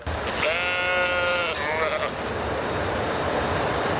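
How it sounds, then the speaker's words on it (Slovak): Sheep loose on a road near Zvolen bleat in a long, wavering, close cry lasting over a second, followed by a shorter bleat, over steady outdoor background noise. "Po krátkej naháňačke príslušníci ovce pochytali."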